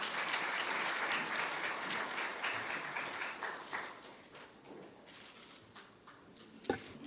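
Audience applause at a formal National Assembly policy forum in Seoul, sustained clapping from a seated crowd that starts strong, tapers somewhat, then continues with one sharp louder clap near the end.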